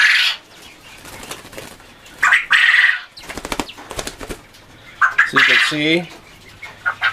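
A male Coturnix quail flaps its wings in a person's hand, bursts of close, loud fluttering beats that come and go while a person talks between them.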